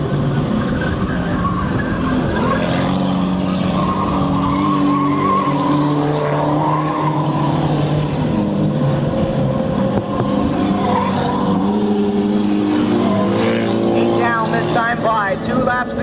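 Race cars run on a track, engines droning and tires squealing in a sustained roar, with an announcer talking over them throughout.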